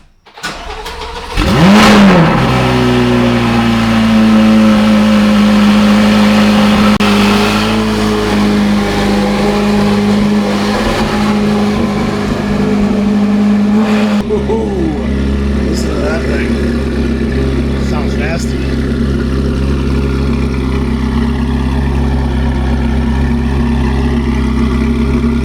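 Chevrolet Corvette C8 Z06 engine starts with a sharp bark and loud rev, then settles into a strong steady idle and low rumble as the car pulls away, close and loud with no talking.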